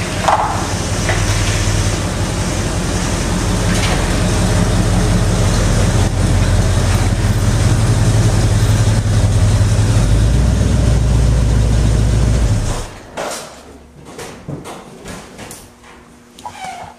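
An old car's engine runs after carburetor tuning, a loud, steady low drone that stops abruptly near the end, leaving quiet background.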